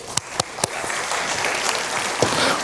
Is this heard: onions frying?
no